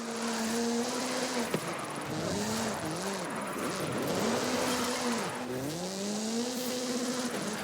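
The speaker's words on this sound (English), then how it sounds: "Hooligan Gymkhana 10 Ford Focus RS RX. 2-litre, turbocharged, front-mounted engine and all-wheel drive." Ford Focus RS RX rally car from the Hooligan Gymkhana 10, with a 2-litre turbocharged front-mounted engine and all-wheel drive, in Forza Horizon 5. The engine rises and falls steadily as it revs and shifts, loud and close, with no talk.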